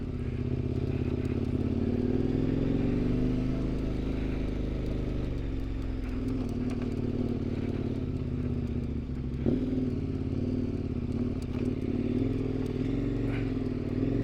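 A dual-sport motorcycle rides along the Senator Highway, a mountain road, its engine a steady close drone that rises and falls slightly through gear changes, with one brief bump near the end.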